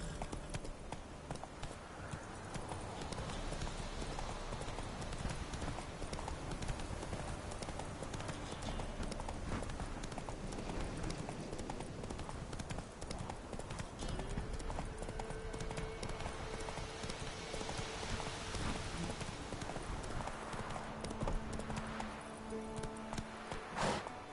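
Roach, a horse in The Witcher 3, gallops with a rapid, steady clip-clop of hooves that holds up close for the whole stretch.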